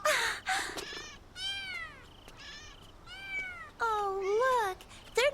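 Several cats meow behind an apartment building, a run of loud, close, drawn-out rising and falling meows one after another, with steady background hiss.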